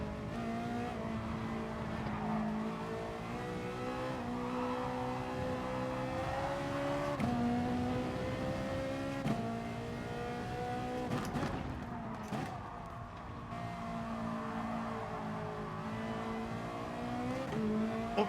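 A Lamborghini race car's engine in the GT Sport racing game holds a loud, steady high-revving drone with pitch lines climbing and shifting as it speeds down a straight. A brief disturbance comes near the end.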